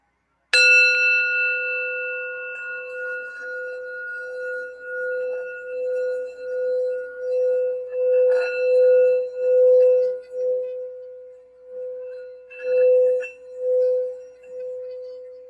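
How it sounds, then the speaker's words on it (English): A sound bell rung for healing and grounding rings out alone with a bright strike and a long, pure, sustained tone, then is struck softly several more times, each ring swelling and fading. "I'm just going to do the sound bell real quick for some healing and to ground for the reading here."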